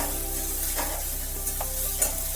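Chopped green chilies sizzle and are stirred in a frying pan while being sautéed for chicken kachori filling, a steady close fry with a few soft scraping strokes of a spatula.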